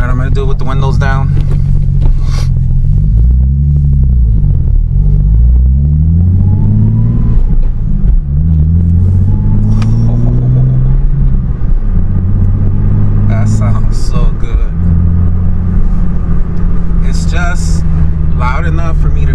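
A Nissan 370Z running an ISR Y-pipe and single exit exhaust drives with the windows down, its engine note climbing and falling through several revving pulls, loud and close throughout, with occasional talk over it.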